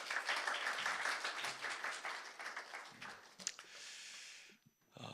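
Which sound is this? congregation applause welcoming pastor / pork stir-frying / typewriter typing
congregation applause welcoming pastor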